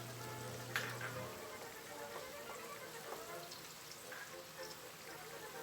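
Shrimp tossed into a pan of cooking pork for Ilonggo-style pinakbet, a steady broadband sizzle with a low hum at the start and a few clinks and splashes scattered through.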